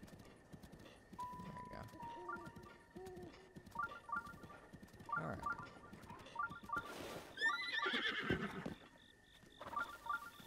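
Horse sounds from the video game Zelda Breath of the Wild: steady clip-clop hoofbeats with a whinny and scattered bird chirps, all fairly quiet, while a person talks over the game.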